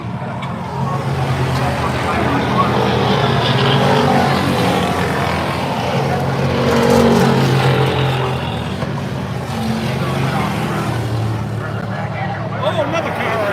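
A race car engine roars steadily past at Oxford Plains Speedway with a rough, metal-scraping edge, swelling briefly as it goes by, against continuous crowd-like background noise.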